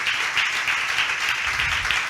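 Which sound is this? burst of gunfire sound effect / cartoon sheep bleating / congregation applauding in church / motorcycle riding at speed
congregation applauding in church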